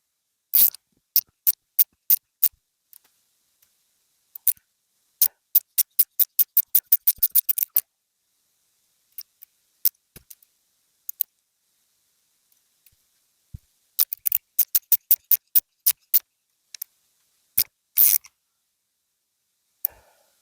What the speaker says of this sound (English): we're going to run the bolt in all the way down, chase the threads, and then we're going to back it out